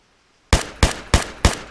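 Four loud, sharp shots from an MX rifle in the video game ArmA 3, evenly spaced about a third of a second apart after a brief silence, with no voices.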